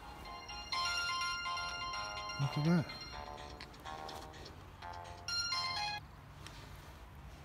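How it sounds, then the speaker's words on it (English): A mobile phone ringtone plays a bright, repeating melodic tune in bursts, fairly loud and close, while someone talks over and between the rings. "My phone's ringing."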